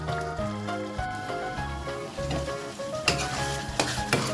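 Fried catfish being stir-fried with toasted green curry paste, eggplant and pea eggplant in a pan: steady close sizzling and frying with scraping stir strokes and clattering spatula hits, no talking.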